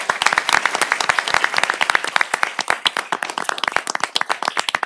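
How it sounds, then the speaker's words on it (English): At a Victoria city council meeting, a modest group applauds, individual sharp hand claps clearly separable in a lively, uneven rhythm, close and fairly loud, with no speech. "Let's give them all a round of applause."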